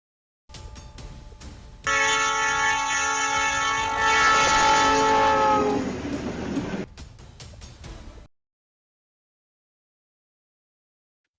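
Train speeding along snowy tracks sounds a loud, sustained horn blast over a roaring rumble, then fades away and leaves silence.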